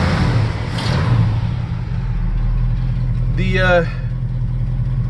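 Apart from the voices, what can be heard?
1969 Ford F250 truck engine running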